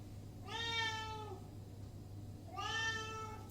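A pet cat named Timmy meows twice, each a clear drawn-out call a couple of seconds apart, close by over a steady low hum, with no talking.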